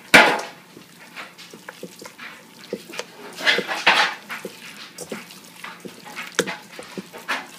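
Croqueta filling is mixed in a pot, with a series of irregular scrapes, knocks and clinks of a utensil against the metal sides rising and falling up close, and no talking.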